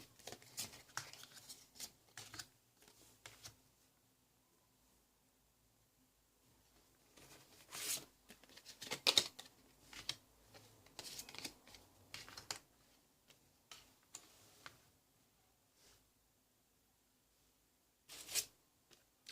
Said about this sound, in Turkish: Şöyle kartlarımı dizeyim hemen.